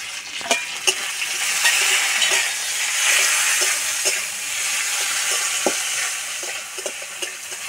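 Chopped tomato sizzles steadily in mustard oil, a close, even hiss punctuated by regular sharp clicks of a utensil stirring against the pan, with no talking.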